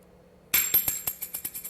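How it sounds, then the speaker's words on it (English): Coins are tossed and land with a sharp metallic clatter, followed by a quick series of smaller clinks and bounces that die away over a second or so. "This one is coins being tossed."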